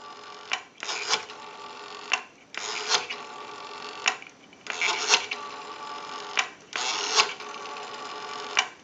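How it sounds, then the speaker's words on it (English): The rotary dial on a Western Electric 234G three-slot payphone returns again and again after each pull, giving four smooth whirring sweeps set apart by short pauses and sharp clicks, heard up close with no talking. "We have a nice smooth return on our rotary dial now."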